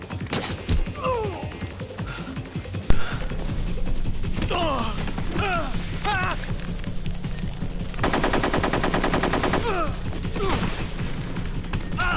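Bursts of automatic gunfire in the Metal Gear Solid 3 video game, rapid machine-gun rattles and single shots layered over a busy battle mix, loud and dense with a sustained fast burst near the end.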